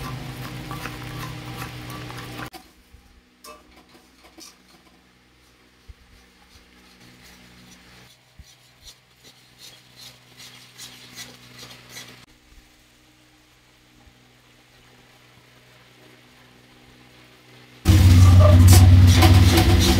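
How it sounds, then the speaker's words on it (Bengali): Spice paste for a pointed gourd dish is stir-fried in a pan, heard as faint, irregular scraping and ticking of a spoon against the pan, set between louder stretches of broadband noise at the start and end. "এবারে ভালো করে মশলাটা কষিয়ে নেব।"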